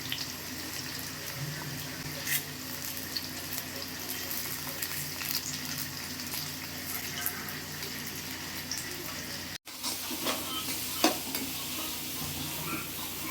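Onions for chicken gravy sauté in a pan with a continuous soft sizzle and occasional stirring scrapes, heard close and steady. A brief dropout occurs near the end.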